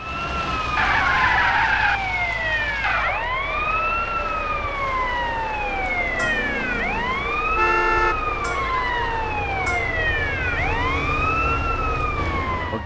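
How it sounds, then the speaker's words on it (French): Fire truck siren in the video game GTA San Andreas: a loud, continuous wailing siren sweeping up and down in repeated cycles, joined by a brief horn-like blast, with steady engine noise beneath and no talking. "j'essaye un petit coup avec la sirène"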